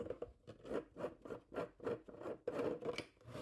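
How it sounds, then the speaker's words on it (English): Plastic 3D-printed filament parts grinding against each other as a threaded cap is unscrewed, a rhythmic series of short, close rasping rubs repeating about twice per second, with no talking. "it's going to make a weird noise because it's all filament on filament"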